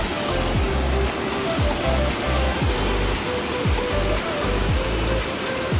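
The Curug Sidoharjo waterfall in Kulon Progo, Yogyakarta, gives off a loud, unbroken rushing roar of falling water, steady and close throughout.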